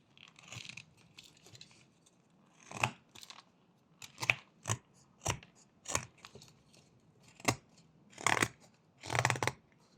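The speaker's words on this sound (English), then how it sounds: "So we make some more V-cuts" A knife carves a series of crisp V-cuts into wood while whittling a butterfly, giving about a dozen short, sharp scraping bursts at irregular intervals, close up and alone with no talk.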